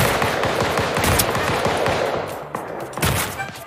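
A rapid burst of gunfire from a video game rattles off in quick succession, a dense string of close, loud shots that thins out, then a couple of louder single reports near the end.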